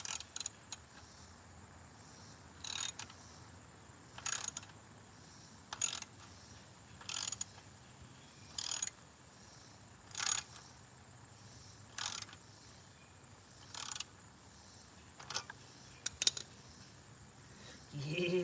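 Ratchet wrench tightening a bolt with a too-shallow socket while working on a wrecked Honda Rebel motorcycle; about ten short clicking ratchet bursts repeat at a steady pace over a quiet background, close and clear.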